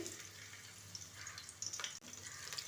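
Chopped garlic frying in hot oil with mustard seeds for a fish sambar, a quiet, close crackle and sizzle with faint utensil clinks and a brief dip near the end, no talking.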